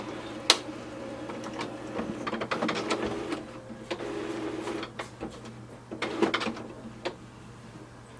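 Inside an HP OfficeJet Pro 6970 printer, the ink cartridge carriage moves with a series of close mechanical whirs, clicks and clunks in irregular bursts against a low steady hum.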